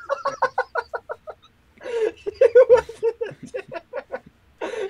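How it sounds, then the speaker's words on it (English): A squeezed rubber duck toy gives a run of short squeaky honks in two bursts, close and fairly loud, with a brief pause between them. "It was a rubber duck. Yeah, I have it. I was just squeezing it and it just went."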